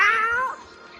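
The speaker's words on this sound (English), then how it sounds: "Your cat meows." A single drawn-out cat meow, clear and close, rising then fading away within about a second.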